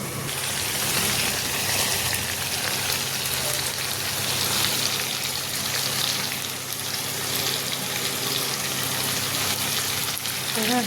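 Chicken cooking in a covered pan over a medium gas flame gives a steady, dense hiss and crackle that holds even and close throughout, with no talking.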